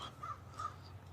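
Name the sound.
storyteller imitating a crow's caw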